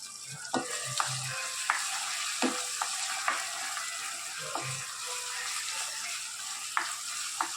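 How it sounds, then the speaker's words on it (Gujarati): Bay leaves and a dried red chili dropped into hot oil for dal fry, a continuous soft sizzle with scattered light clinks and taps from a utensil, close by and without talk. "એના અંદર 2 આપણે તમાલપત્ર નાખીશું, 1 લાલ મરચું પણ નાખીશું."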